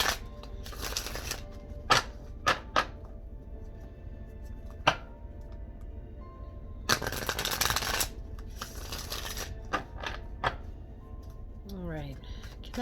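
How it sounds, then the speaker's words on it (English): Dark Goddess oracle cards are riffled and shuffled in several crisp, rapid bursts spaced apart, with softer taps and handling in between and faint talk near the end. "two more shuffles"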